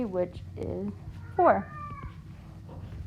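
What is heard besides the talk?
cat meowing in the background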